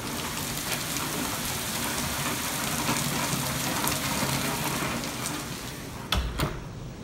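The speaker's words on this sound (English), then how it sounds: "Now, I think it's really raining." Heavy rain pours steadily in a dense, loud wash, close and unbroken, with a couple of sharp knocks near the end.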